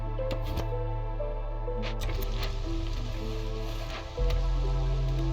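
Drizzle falls steadily in the city-building game Against the Storm, a soft continuous patter of rain layered over sustained ambient music tones, with no talk.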